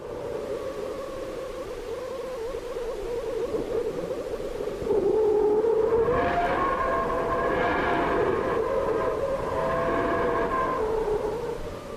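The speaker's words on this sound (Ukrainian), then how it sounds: "Це сонячний вітер." An eerie sonified recording of the solar wind, made in 2024 by the Parker probe, drones on low and wavering, then swells with rising and falling whistling tones partway through; no voices.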